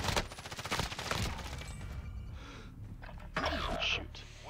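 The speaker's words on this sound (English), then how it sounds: "Oh, I'm taking fire." Gunfire crackles in a Call of Duty Warzone match, a rapid string of bursts that thins into scattered shots and rumble, heard under a player's voice.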